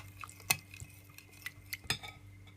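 A spoon stirring chili seeds and sugar into a sweet and sour sauce in a bowl, with a few distinct clinks of metal against the dish amid soft scraping, close and quiet, no voices.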